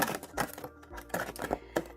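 Scissors snip along the edges of a sheet of paper, making a quick series of crisp, close, quiet cutting clicks in an irregular rhythm.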